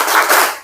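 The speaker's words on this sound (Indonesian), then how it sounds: "Oke, tepuk semangat." A group of people, likely a class, gives a quick spirited clap, a short burst of a few hands striking together, close and loud, lasting under a second.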